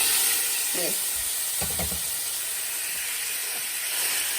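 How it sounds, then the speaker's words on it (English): Thin-sliced beef sears in extra virgin olive oil in a pan, making a steady close hiss and sizzle throughout, with a few brief voice-like sounds early on. "Add a couple tablespoons of extra virgin olive oil to your pan, and then you want to take that meat that you sliced up very thin"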